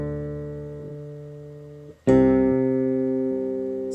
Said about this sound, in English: With the OC2, it's often that you'll get like some unpredictable noise just because of the digital nature of the pedal.